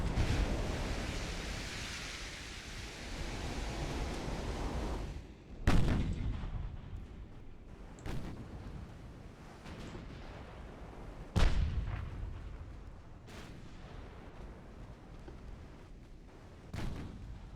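Naval gunfire in Ultimate Admiral: Dreadnoughts, from a Britain versus France battle set in 1899, with a sustained roar of ocean and wind broken by several loud, booming cannon shots at irregular intervals.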